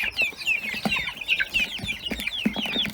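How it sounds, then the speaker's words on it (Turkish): A rooster and hens cluck in quick, repeated bursts at close range, several birds overlapping in a busy, continuous chatter. "Bakın şu horoz."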